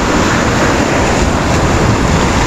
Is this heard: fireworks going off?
no